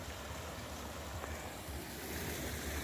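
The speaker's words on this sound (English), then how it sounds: "Not a big one, there's a waterfall." Small waterfall in a rain forest, a constant broadband rush of falling water with a low rumble, heard steadily without any voices.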